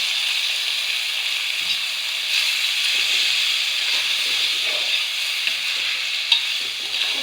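Sliced onions sauté with salt in hot oil for a home-style chicken curry, giving a loud, continuous hiss and sizzle with light scraping of a stirring spoon and no talk.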